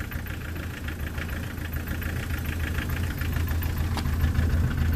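A diesel engine idles roughly just after a cold start with the glow plugs off, misfiring and running on only three cylinders, giving a steady, loud, uneven knocking rumble throughout.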